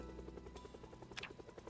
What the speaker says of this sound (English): Because hopefully we can sleep through the helicopter.